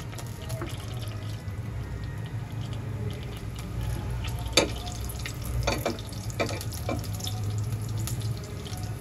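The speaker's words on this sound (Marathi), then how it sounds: "प्रेशर पॅनमध्ये मी 2 चमचे तूप घेतलं आहे. त्याच्यामध्ये आपण जिरं घालूया." Cumin seeds sizzle and crackle in hot ghee in a pressure pan, a steady close frying hiss with scattered sharper pops and no talk.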